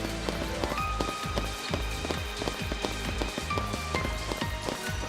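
Rain weather in the video game Final Fantasy XIII, a steady patter of rain drumming on surfaces, mixed with repeated rhythmic footstep-like thuds and game sounds.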